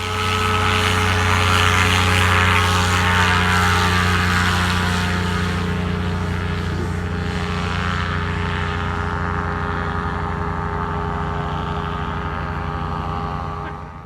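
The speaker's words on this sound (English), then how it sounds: "A member and local neighbor got some footage of the plane taking off from the 13th fairway" A small propeller airplane taking off from the 13th fairway of a country club golf course near a tree line, its loud droning engine steady and close at first, then slowly fading as it pulls away.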